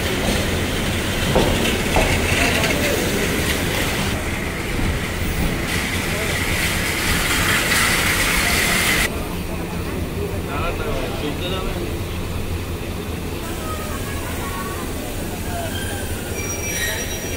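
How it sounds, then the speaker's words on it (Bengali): A train rolls into Kamalapur railway station with steady rumbling and loud, high metallic wheel squeal over the first half, the squeal easing as it slows. "1 ঘন্টা 7 মিনিট বিলম্বে ট্রেন প্রবেশ করলো কমলাপুর রেলওয়ে স্টেশনে"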